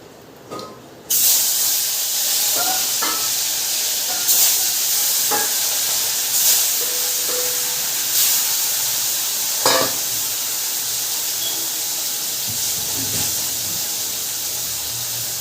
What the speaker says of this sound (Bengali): তো মাছটা ভাজা হোক একটু।